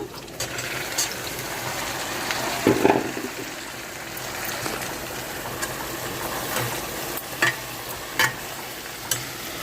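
Boiled tripe fries with browned onions in a pan, giving a steady crackling sizzle with stirring scrapes, a louder burst near the start and sharp utensil clicks toward the end.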